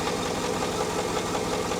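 A Mitsubishi Outlander engine idles roughly with a shaking vibration, giving a steady, dense mechanical drone with knocking texture that stays constant and close throughout.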